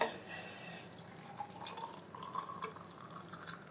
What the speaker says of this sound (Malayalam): നമുക്കിത് ഒരു പാത്രത്തിൽ അരിച്ച് വെക്കാം